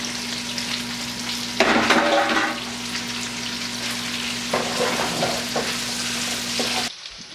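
Peppers and onions frying in bacon fat in a pan, with a steady close sizzle, a louder burst of crackling and stirring early on, then a continuous hiss with occasional scrapes until it cuts off near the end.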